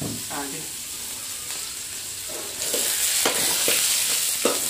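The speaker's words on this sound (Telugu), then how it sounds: "ఇప్పుడు ఎర్రగడ్డలు కొంచెం నిదానంగా వేసుకున్నాం." Onions frying in a pan for brinjal pappu curry, with a broad steady sizzle that grows louder partway through and a few soft scrapes of stirring, close by.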